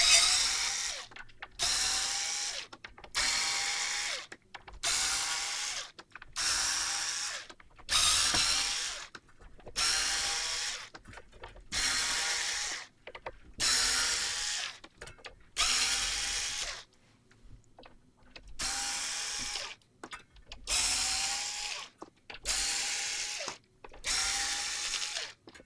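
A power screwdriver unscrews screws one after another while a Logitech Z-5500 speaker is taken apart, giving about a dozen short, even whirring bursts separated by brief pauses, close and fairly loud.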